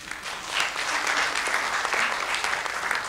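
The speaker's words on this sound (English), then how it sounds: "Can you give the Philippines a round of applause," Summit audience at an HR conference in Asia giving a full round of applause, a dense, continuous wash of many hands clapping that stays loud throughout with little speech.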